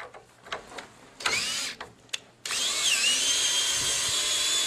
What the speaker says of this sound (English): Low speed on your drill.